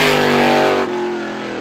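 A race car on its opening time-trial lap at Star Speedway roars loud and close, its engine note shifting downward as it passes, with a steady high-pitched drone.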